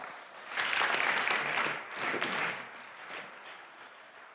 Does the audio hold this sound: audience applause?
yes